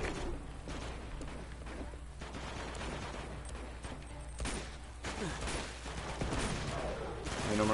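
Rapid bursts of gunfire from the video game Uncharted 2, several clustered volleys and single shots at moderate level amid game effects, with faint talk in places.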